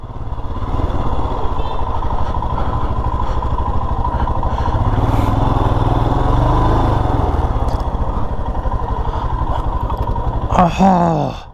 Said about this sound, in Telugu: సో మన బైక్ అయితే ఇక్కడ పెడతాం.